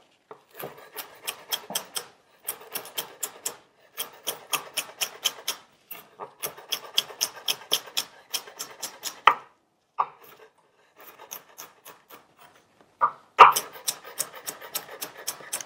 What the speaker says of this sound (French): On va venir émincer.